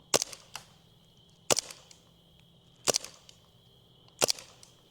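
An airsoft gun fires tracer BBs outdoors: four sharp, snappy cracks spaced about 1.4 seconds apart, each followed by a brief smaller echo or rattle, with a faint steady hum between shots.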